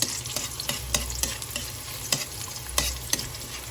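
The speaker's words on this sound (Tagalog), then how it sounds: "Pinigisa na po natin ang bawang at sibuyas" Garlic and onions sautéing in oil in a pan, a close sizzle broken by scraping stirs at intervals, with no voices.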